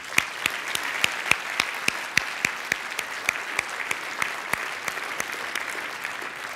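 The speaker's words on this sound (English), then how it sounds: "Please give him another round of applause" Audience applause for Treasury Secretary Steven Mnuchin at an Economic Club of New York event: steady, evenly paced clapping from a seated crowd in a room, with crisp individual claps over a soft wash and no voices.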